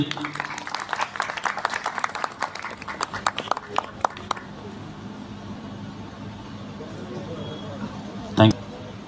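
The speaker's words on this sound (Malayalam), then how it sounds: "എല്ലാവരും നല്ലൊരു കയ്യടി." An audience claps at an anti-drug awareness programme: a dense burst of hand clapping in a hall that thins out and stops after about four seconds, then quiet room tone with a single loud thump near the end.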